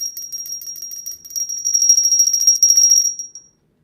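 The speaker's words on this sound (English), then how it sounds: "we'll ring this for hot deals" A hand bell rung to announce hot deals, a steady rapid ringing that starts at once, swells louder toward the end, then stops abruptly with a short ring-out.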